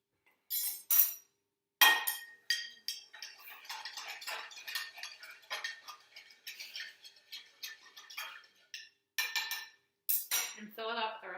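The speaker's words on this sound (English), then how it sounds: "Then we'll stir." A spoon stirring a mixture in a container: light clinking and scraping taps, a few sharp knocks at the start and end with softer rapid ticking between, close and fairly quiet.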